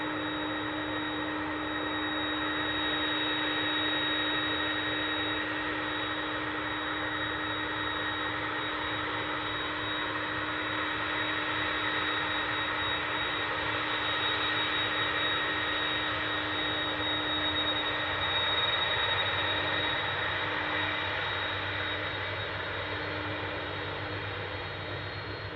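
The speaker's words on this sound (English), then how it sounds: "This MD-11 from Louisville's been waiting for a little bit." MD-11 jet airliner from Louisville waiting at DFW airport, its engines giving a constant loud whine and roar with steady high-pitched tones, unbroken throughout.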